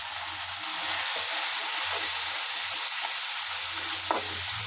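Ground spices including chili powder, cumin, cinnamon and cardamom sauté in a pan with a splash of water, making a continuous loud sizzle while a utensil scrapes and stirs in uneven strokes; no one speaks.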